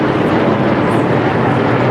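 An airplane roars overhead at an air show, a loud, continuous broadband engine and air rush that stays steady and close throughout, with no voices.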